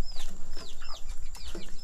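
Leghorn chickens in a small backyard flock of hens and roosters, giving several short, sharp clucks and squawks in quick succession, close by and fairly loud.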